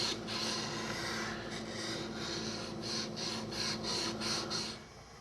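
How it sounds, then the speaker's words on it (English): Steady gritty rubbing of sandpaper over stone during a low relief stone carving, with a run of quick back-and-forth strokes in the latter half, close and continuous. "Even when I'm sanding the stone,"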